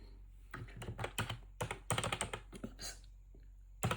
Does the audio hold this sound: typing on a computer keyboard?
yes